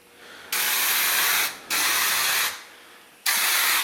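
Loud bursts of spray hiss in three long blasts separated by brief pauses, close to the microphone, with no talking, as a thick coating is sprayed onto a Chevy S10 truck frame.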